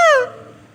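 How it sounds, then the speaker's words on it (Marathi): A peacock gives a single loud, close call: a sharp rising-then-falling honking wail that fades into quiet background within a second, with no talk. "इतक्या जवळून तुम्हाला मोराचा आवाज पण ऐकायला भेटला"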